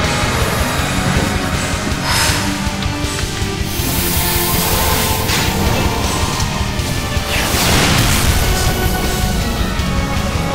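A grenade impact art from The Last Remnant video game erupts in a dense, sustained wash of crashing, booming explosions and whooshes, loud and continuous with a few sharper bursts, and no talk.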